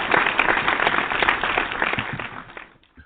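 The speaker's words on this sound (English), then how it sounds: "I'm going to applaud you, every last one of you guys again" A crowd's applause rattles at close range, a dense crackling patter of many hands that fades out toward the end.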